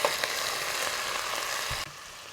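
Hot pepper and bandania sizzling in oil in a pot for a Trinidad curry beef, a steady soft frying hiss with a faint stir knock near the end.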